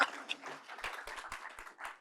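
Sparse, scattered clapping from a small audience at a workplace talk, a handful of distinct hand claps spread unevenly over about two seconds, close and fairly light.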